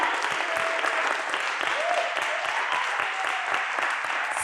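Sustained applause from a large audience at a startup demo day in Paris, a dense wash of many hands clapping steadily throughout, with faint voices mixed in.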